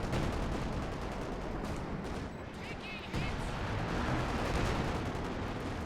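Artillery and gunfire in a 4v4 Company of Heroes 2 battle on Essen Steelworks, a dense continuous barrage of booms and rattling shots with heavy battle noise and no clear pauses.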